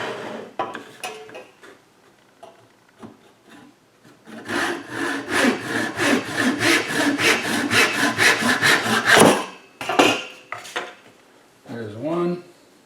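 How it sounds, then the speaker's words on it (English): A handsaw cuts wood held on a bench hook, a close run of rhythmic rasping back-and-forth strokes for several seconds, with some bumps and handling before and after. "Just going to use my bench hook here and a handsaw."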